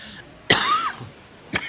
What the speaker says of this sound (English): I turned my head to cough, so I don't cough on the microphone